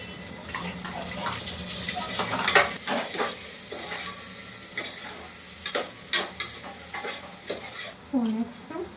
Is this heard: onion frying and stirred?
yes